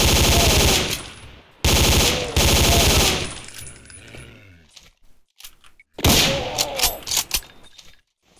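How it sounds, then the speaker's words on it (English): A video game chain gun rattles off in dense, rapid-fire bursts, two long loud strings at the start and another later, with clunky mechanical thuds and quieter gaps between. "So I guess this is a chain gun."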